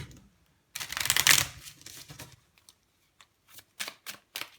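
Radiant Tarot cards being shuffled close up, one long riffling burst followed by several short crisp card flicks and taps, with no voices.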